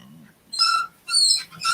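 Squeaky wheels on a cheap plastic chair give two high, whining squeals, close and loud, each about a third of a second long, separated by brief quiet.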